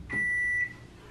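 A microwave oven gives a single clear electronic beep, about half a second long, close by in a quiet kitchen, followed by faint room hum.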